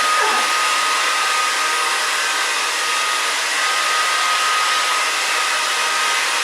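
A handheld hair dryer blowing steadily while hair is dried and styled during a haircut for a lob, a loud constant close whooshing roar with no breaks and no talking.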